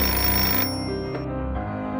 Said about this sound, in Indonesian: Setelah menutup telepon kembali berdering.